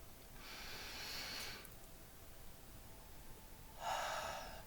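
A slow, deep breath is drawn in and then released, two airy rushes a few seconds apart, close and fairly soft, with no speech.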